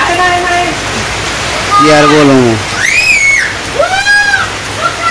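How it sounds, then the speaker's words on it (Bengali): Heavy rain falls over a Bangladeshi village as a steady broadband hiss that runs through the whole stretch, sitting beneath a person talking nearby. "আর অনেক বৃষ্টি শুরু হয়েছে।"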